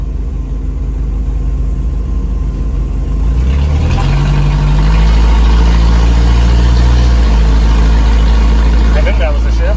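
A 1987 Toyota van's engine runs and pulls away, a low rumble rising in pitch as it accelerates and shifts gears while driving, loud and close throughout.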